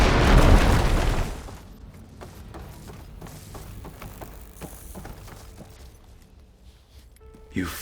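A fire gleam blows up in Horizon Forbidden West with a loud, close burst at the start, then a ringing debris tail that thins into quieter clatter and faint rumble.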